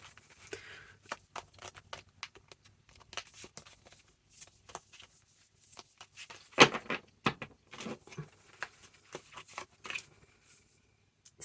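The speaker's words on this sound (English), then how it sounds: "Let's give it a shuffle." Mystical Melodies tarot cards being shuffled by hand in quick, papery riffles and taps, close and fairly quiet, with one sharper louder burst midway.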